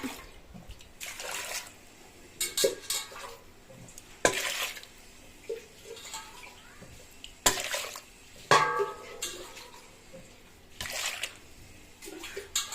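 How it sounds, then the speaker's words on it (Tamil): Water scooped and poured into a pot of cassava (tapioca root) for boiling, heard as several separate splashing pours with trickling in between, close and fairly loud, with no talk. "தண்ணி மொண்டு ஊற்றிக்கலாம்"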